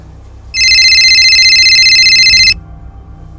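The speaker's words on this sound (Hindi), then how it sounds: "बैल जा रही है, उठा नहीं रहा।" A telephone rings on an outgoing call, one steady, loud electronic trill lasting about two seconds, close and alone with no talk.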